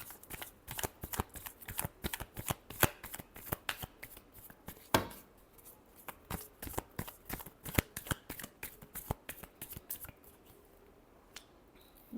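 A deck of tarot cards is shuffled in close, crisp bursts of riffling and flicking, repeating rhythmically with brief pauses between.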